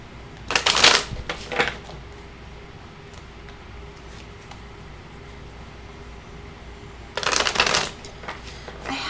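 A deck of cards being shuffled up close, in two crisp riffling bursts, one near the start and one near the end, with near-silence between them and no voices.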